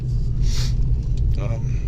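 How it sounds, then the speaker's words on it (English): A truck, a family hauler, drives along a neighborhood road, giving a steady low engine and road rumble throughout, with a couple of brief higher hisses and rattles riding on top. "Truck is driving nice and straight."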